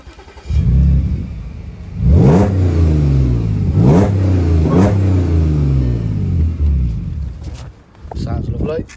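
Audi S4 Avant 3.0 TFSI V6 petrol with quattro and S tronic automatic, revved in several loud, close rising bursts that fall back between blips, then settling to a steady idle.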